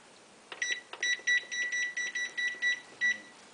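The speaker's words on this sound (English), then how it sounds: "Timer. Timer." Kitchen timer setting off a run of high electronic beeps in quick, evenly spaced bursts, fairly faint and close, over a quiet room with no talking.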